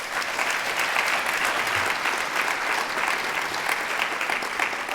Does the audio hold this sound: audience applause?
yes